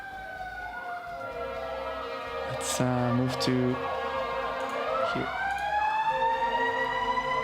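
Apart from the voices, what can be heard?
sirens outside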